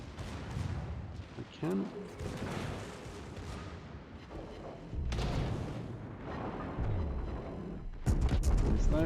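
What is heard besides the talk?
warship guns firing, World of Warships video game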